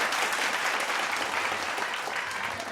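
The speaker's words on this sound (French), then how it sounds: "On applaudit bien fort pour toutes les candidates." An audience at a fashion contest grand final applauds the candidates, a sustained, dense wash of clapping that holds steady for nearly three seconds and eases slightly toward the end, with no voices over it.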